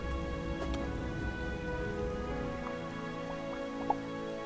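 Steady rain in the video game Starbound, a continuous even patter filling the whole stretch with a single faint tick near the end.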